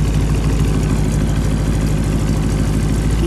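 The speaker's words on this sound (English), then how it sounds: "Especially with the trumpet like exhaust" Loud, steady low rumble of a 1964 Apollo 3500GT Spyder prototype's engine idling up close, a constant deep drone through its trumpet-like exhaust with no pauses or voices.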